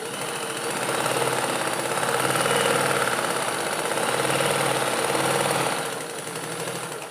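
Sewing machine stitching a cross piece of cloth, running in a steady, fast, continuous whir for several seconds close up, then easing off near the end.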